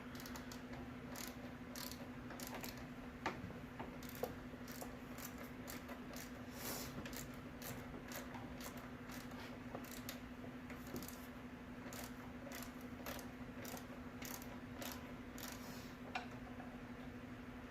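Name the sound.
ratcheting a bolt on a Toyota Camry alternator adjuster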